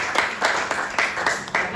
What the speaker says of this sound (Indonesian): Nah, tepuk tangan untuk kita semua dulu.